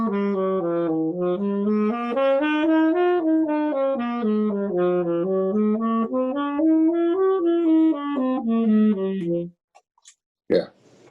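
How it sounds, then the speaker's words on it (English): Major scales played slowly and smoothly on a melodic instrument, climbing and falling step by step while modulating from key to key, solo and sustained, then a brief click at the end. "I do my scales. I do the major scales first."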